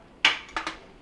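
Plastic tabs on a Kenmore refrigerator evaporator fan cover snap into place: one sharp click, then two quicker clicks close together, all close and fairly loud in a quiet room.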